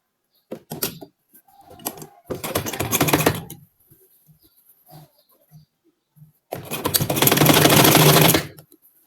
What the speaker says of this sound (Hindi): तो अब हम सिलाई लगाना स्टार्ट करते हैं इस तरह।